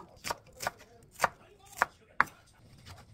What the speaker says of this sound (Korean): 나머지 하나는 채썰기로 썰어주세요.